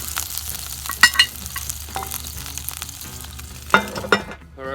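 Sausage sizzles in a Dutch oven, a close steady fry with a few louder clanks and scrapes of a utensil against the pot.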